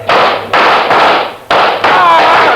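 Radio drama gunfire sound effect: a rapid volley of sharp, loud bursts in quick succession, each cracking shot trailing off before the next, close and dominant.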